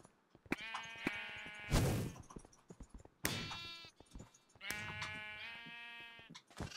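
Sheep in the Minecraft video game bleat several times in quick succession, clear nasal wavering cries broken by a short noisy burst of game sound.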